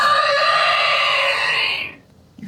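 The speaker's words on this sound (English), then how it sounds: "You hear the shrieking from the fog." A shrill, sustained shriek sounds out of fog, loud and wavering for about two seconds before cutting off into near silence.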